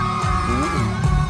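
At a show at Summer Sonic Tokyo, a concert crowd yells and whoops for a band member, loud bursts of shouting layered over pounding music in a short, dense swell.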